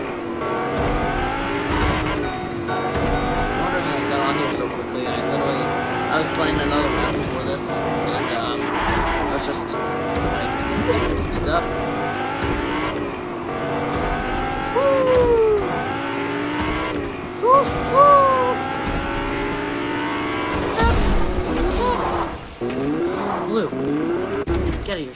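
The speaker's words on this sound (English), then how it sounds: "this nice whiplash fast car" A fast Whiplash car driving in the Fortnite video game, its engine revving and tires squealing under continuous game sounds, with a player talking over it throughout.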